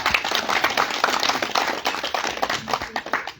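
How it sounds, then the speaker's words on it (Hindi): An audience at a political address claps briskly in honor of great national leaders, a dense burst of clapping lasting a few seconds. "सभी महापुरुषों की बार तालियां आप लोग बजाइए।"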